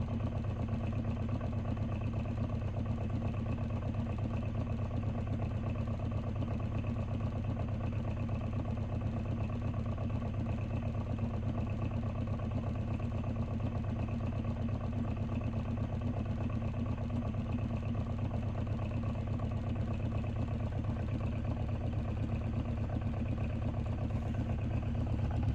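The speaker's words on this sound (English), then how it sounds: "The motor is going a little faster too, I see." A magnet-powered pulse motor runs steadily with an even, continuous mechanical hum and faint clatter, unchanging throughout and with no voices.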